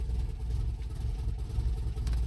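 A 1980 MGB's engine runs steadily, a low continuous rumble close by with no talk over it.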